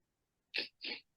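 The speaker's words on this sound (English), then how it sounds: "I'm going to sneeze" Two quick, sharp sneezes in close succession, near and loud, against an otherwise quiet background.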